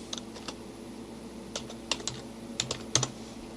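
Typing a message on a computer keyboard while setting up an autoresponder: soft, irregular key clicks, faint and fairly close, in small scattered bursts with pauses between, no talking.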